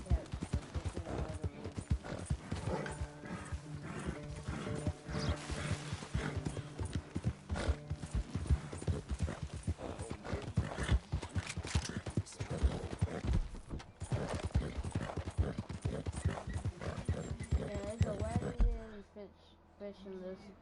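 Hooves clip-clop steadily in a video game as a horse wearing a winter outfit trots along, with occasional whinnies and someone talking over the footsteps.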